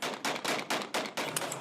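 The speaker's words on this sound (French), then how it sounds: "Des coups de feu retentissent sans interruption, mais ce ne sont pas des combats, juste des tirs en l'air," Celebratory gunfire shot into the air in Syria after the fall of Bashar al-Assad, a rapid series of about seven sharp bursts in close succession, loud and fairly near, with no voices.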